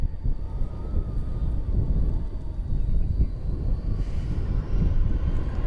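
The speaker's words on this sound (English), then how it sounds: "Headed out now to Ontario, California, in Airbus A321 American Airlines flight 1759" An American Airlines Airbus A321 jet departing DFW Airport at night, bound for Ontario, California, gives a steady, fairly loud low rumbling roar that holds evenly for several seconds.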